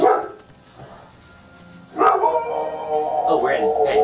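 A dog in the game Divinity Original Sin 2 gives a short bark, followed after a pause by a burst of louder barking and yipping, with a voice talking over the sounds.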